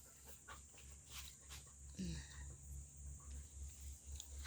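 A tired dog pants outdoors in steady quick breaths, faint and close, with a low steady hum and light background noise throughout; a person talks nearby.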